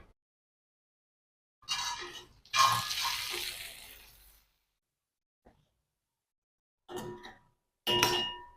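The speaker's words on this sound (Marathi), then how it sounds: "अर्धा कप पाणी घातलंय पाणी घालत असताना गरम करून घालायचं" Half a cup of hot water is poured into a pan of stuffed capsicum in a dry curry, making short hissing, splashing bursts separated by silent gaps.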